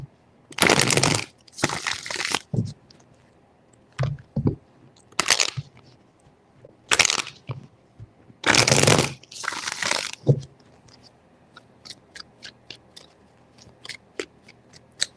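Tarot cards riffled and bridged in short, crisp bursts of papery flutter, roughly three separate shuffles spaced apart, followed by lighter taps and card handling with no talking.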